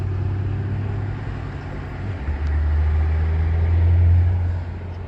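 A 2009 or 2010 Mercedes E63 AMG engine rumbles low and grows louder as it passes nearby, its deep drone swelling then fading slightly.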